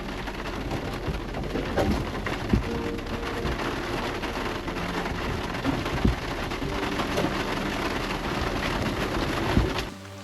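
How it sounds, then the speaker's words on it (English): Heavy rain drums steadily on a tent over a parked Jeep on an overgrown Rocky Mountains trail, a dense continuous wash with scattered louder drops and a faint distant rumble of thunder. "Is it ever raining?"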